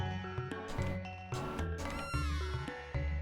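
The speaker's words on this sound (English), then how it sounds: "And here's the friggin' purple cat again." A purple cat in the Chrono Trigger video game lets out a short, bright synthesized meow that slides downward, riding over bouncy game music with plucked bass notes.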